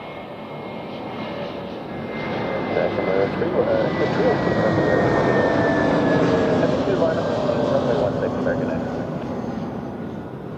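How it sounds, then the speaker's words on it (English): An Airbus A320neo arriving from Palma comes in to land at Zurich with a broad jet roar and a thin whining engine tone that builds to a loud peak as it passes close, while a voice talks in the background. "this is the A320neo from Palma."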